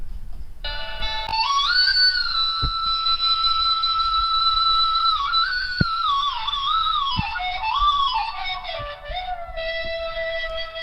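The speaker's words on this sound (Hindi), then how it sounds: "बांसुरी, उसकी भी ध्वनि आप यहां पे सुन सकते हैं" A bansuri bamboo flute plays a long, sustained breathy melody with slow bends and ornaments, clear and upfront over a faint background with occasional soft taps.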